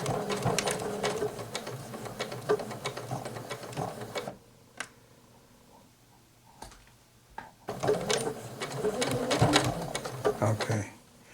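A Janome 8077 sewing machine stitching a back stitch, rapid close mechanical whirring and clicking in two bursts separated by a quiet pause with small clicks.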